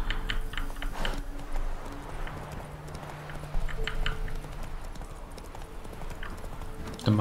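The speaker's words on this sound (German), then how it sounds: "Dann machen wir noch eine hübsche kleine Pferdestrecke." Horse hooves clip-clop at a steady riding gait in The Witcher 3: Wild Hunt, travelling toward Novigrad. Rhythmic and mid-distance, with faint background mechanical sounds and no talk.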